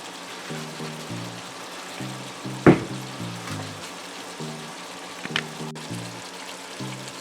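Vegetables for Jamaican brown stew sautéing in a pan, a steady low sizzle and frying hiss with a couple of brief clinks from stirring, faint and close, alongside quiet background music.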